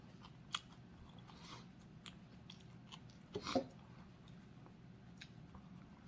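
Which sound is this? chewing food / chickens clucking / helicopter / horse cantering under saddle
chewing food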